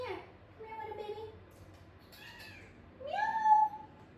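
A pet cat meows twice, close by, the second call longer and rising, with a voice softly speaking before it in a quiet home.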